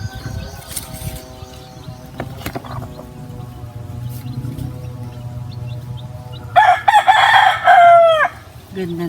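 Hens cluck in a farmyard, and near the end a rooster lets out one loud, close crow lasting about two seconds.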